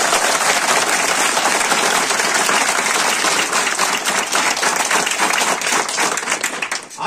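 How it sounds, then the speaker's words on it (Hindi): Loud, sustained applause from a group of children at a school magic show, dense steady clapping throughout that thins slightly toward the end. "सभी बच्चे जोर से तालियां बजाएंगे"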